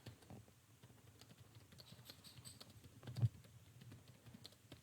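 Computer keyboard typing as an assignment is written, soft scattered key clicks at close range with a slightly louder tap near the end, no voices.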